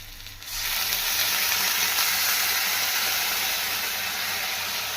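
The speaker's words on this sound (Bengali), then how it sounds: "এই যে গরম জলটা যাচ্ছে।" Hot water poured into sizzling fried masala in a pan for a Bengali fish curry, a sudden loud steamy hiss and sizzle that starts abruptly and then holds steady and bright to the end, with no talk.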